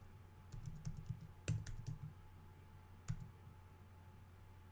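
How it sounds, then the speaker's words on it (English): Quiet, irregular clicking of someone typing on a computer keyboard: short runs of keystrokes, a couple of sharper key hits, then a pause, over a faint steady hum. "I'm typing through right now."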